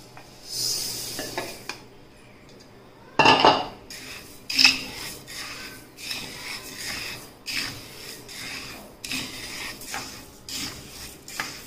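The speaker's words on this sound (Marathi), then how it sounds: "आता आपण प्रथम धने भाजून घेणार आहोत" Coriander seeds dry-roast in a pan, heard as intermittent rattling, scraping stirs and metallic clinks of a spoon against the pan, with quiet gaps between bursts and one louder clatter early on.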